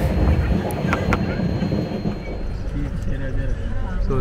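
An AC double decker express train runs between Tirupati and Visakhapatnam, a steady rumble and rattle of carriages heard from on board. Faint wheel clicks and squeals come through, and a voice talks over it.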